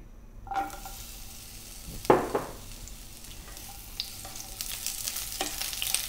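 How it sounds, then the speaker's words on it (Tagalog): Onion rings fry in a small amount of oil in a pan for a Filipino tuna steak dish, with a steady sizzle, a sharp crackling burst as they go in, and soft stirring scrapes. "Ipapan-fry pa po kasi natin yung ating onion ring."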